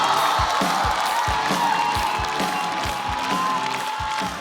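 A stand-up comedy audience claps and cheers to welcome a comedian to the stage: dense, continuous applause with whoops, loud and sustained throughout.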